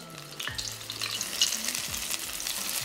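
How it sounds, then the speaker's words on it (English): Shrimp deep frying in oil heated to 375°F, a steady dense sizzle and bubbling crackle that holds throughout, with a few soft clanks of the basket and low tones underneath. "Our oil is heated up at 375 degrees Fahrenheit and it's really hot. So I'm going to place the shrimp inside the basket"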